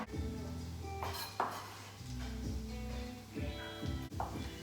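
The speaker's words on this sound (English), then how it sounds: "So now we are going to thinly slice the leek." A kitchen knife thinly slices cleaned leeks on a cutting board, producing a series of crisp, close cuts and board taps in an irregular rhythm.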